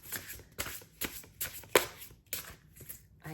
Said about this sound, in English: I can shuffle the cards.